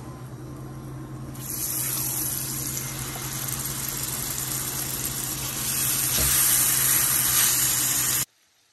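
Chicken pieces dropped into hot oil flavoured with rosemary, a sudden loud hiss jumping up and then sustaining as a steady, bright sizzle that swells further before cutting off abruptly.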